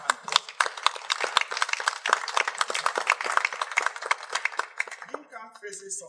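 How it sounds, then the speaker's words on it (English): An audience at a presidential debate applauds its leaders, with dense overlapping claps rolling steadily for about five seconds before thinning into scattered hand claps. "join me in giving a hand of applause to all our leaders"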